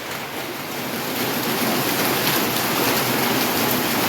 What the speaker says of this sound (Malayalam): സൂപ്പർ മഴ.